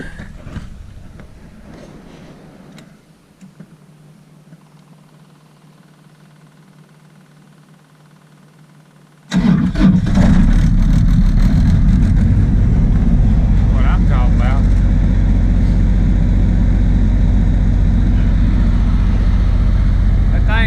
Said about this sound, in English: Try to fire it off, maybe it'll crank.